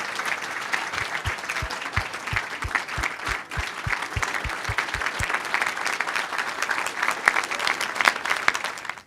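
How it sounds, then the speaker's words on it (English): Sustained audience applause at a leadership award ceremony honoring a couple, steady and dense throughout with a brief run of low rhythmic thumps early on. "Would you all please join me with a rousing applause for my parents, George and Carol"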